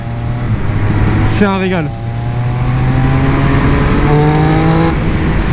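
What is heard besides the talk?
Triumph Speed Triple 1200 RS motorcycle downshifting with quickshifter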